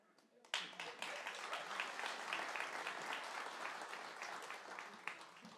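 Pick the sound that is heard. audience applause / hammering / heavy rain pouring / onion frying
audience applause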